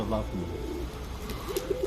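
Soft, low pigeon coos repeat against faint background noise, with a brief rustle or flutter near the middle.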